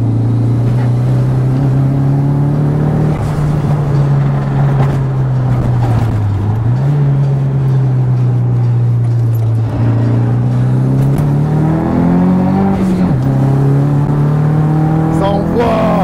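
Nissan S13 race car with a CA18 engine lapping a track at a Japanese car festival, its engine droning loud and steady from onboard, pitch dipping and rising with shifts and throttle, with voices talking over it.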